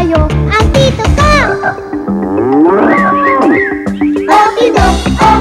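Loud, close cow moos repeat several times, long drawn-out lowing calls that rise and fall in pitch.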